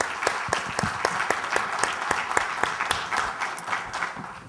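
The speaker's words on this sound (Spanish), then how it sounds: "Sus reconocimientos y otro gran aplauso, por favor" An audience at a closing ceremony of a personal-data law event applauds steadily, a dense, even roar of many hands clapping throughout, close and sustained with no speech.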